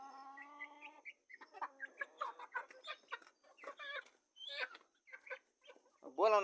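Local backyard village chickens cluck close by in quick, uneven bursts, with clear pauses between calls and one louder, drawn-out squawk at the end, in a quiet rural setting.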